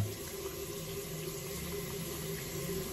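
Tap water running steadily while a face is rinsed, a continuous even splashing hiss close by with no talking.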